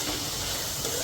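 Spices tempering in hot oil in a home kitchen, a steady close sizzling hiss filling the whole moment without pause.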